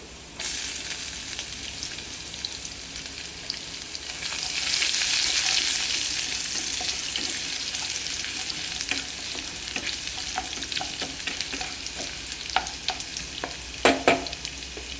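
Garlic frying in a pan for a Madras-style chicken curry, a steady hiss of hot oil that swells for a few seconds, with scattered scrapes and clinks of a spoon stirring, louder taps near the end.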